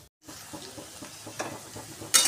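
Ground masala paste frying in hot oil in a pan for egg curry, a soft, continuous sizzle with faint stirring scrapes, close by, ending in a brief louder hiss.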